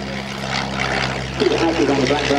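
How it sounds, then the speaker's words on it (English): A de Havilland Tiger Moth biplane flies at an airshow pageant, its propeller engine a steady droning hum under a commentator's voice over the public address. "Frank Chapman on the Tiger Moth"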